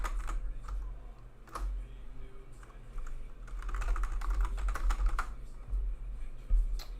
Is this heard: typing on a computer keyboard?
yes